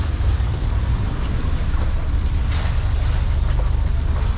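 A tourist boat carries passengers toward Coral Island in Thailand, its engine giving a steady, loud low rumble with wind buffeting throughout and no voices.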